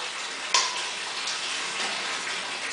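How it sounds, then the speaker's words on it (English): A kitchen tap runs steadily while greens are cooked, a bright continuous hiss of flowing water with one sharp clink near the start. "I got my water running."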